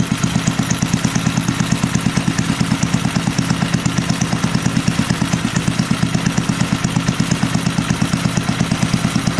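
A small 3.5 horsepower single-cylinder engine runs steadily at full throttle, a close, loud, continuous rapid clattering drone that holds even throughout with no speech.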